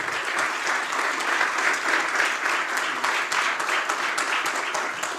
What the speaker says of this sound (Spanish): Un fuerte aplauso para Sebastián y Esteban.